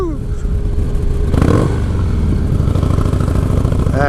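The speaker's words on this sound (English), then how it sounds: "That's my first rev bomb under a overpass." A 1996 Harley-Davidson Softail revs hard under an overpass, its loud, close engine swelling into a sharp burst of throttle about a third of the way in. The note then settles into a steady, echoing rumble, and a voice cheers over it.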